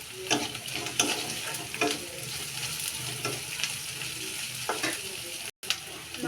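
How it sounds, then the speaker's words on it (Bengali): Dried shrimp frying in hot oil with chopped onion, garlic and green chili, a loud, steady sizzle close by with intermittent stirring scrapes and clatters throughout. "পেঁয়াজ রসুন কাঁচামরিচ কুচি দিয়ে দিলাম চিংড়ি শুটকিটা আগে এখানে সুন্দর করে একটু ভেজে নেব"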